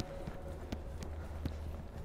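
A horse cantering on an arena surface during a riding lesson, with a steady rhythm of hoof thuds at close range under a low background hum.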